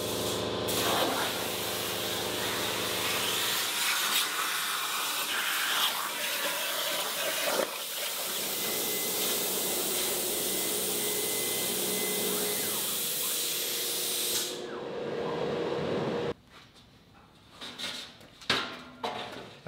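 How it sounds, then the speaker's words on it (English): A plasma cutter slicing through aluminum sheet gives a loud, steady hissing roar that runs for about fifteen seconds before cutting off, followed by a few quieter clanks and shuffles nearby. "the plasma cutter zipped through it and left a pretty nice edge"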